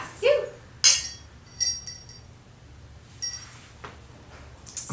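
Wine glasses clink a few times, with sharp bright taps spaced across a few seconds in a quiet room; no one talks.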